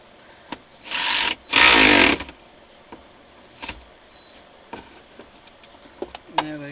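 A Mac ratchet working bolts on an F150 center console, with two loud, sustained bursts of ratcheting early on, then scattered sharp clicks and taps in a quiet cab, close to the mic.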